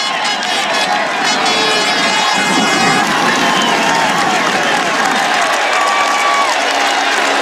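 A roadside crowd on a Tour de France mountain climb roars and cheers continuously at a 2012 stage, a dense, loud wash of shouting and clapping with voices mixed into the din.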